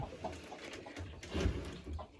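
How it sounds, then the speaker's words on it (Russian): Hens cluck softly in a coop with nesting boxes, a few low, faint murmuring calls close by with no talking. "Все, уже пошли сюда куры нестись."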